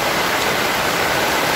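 Heavy rain falls during a severe storm as a dense, constant broadband hiss. It is loud, close and steady, with no voices.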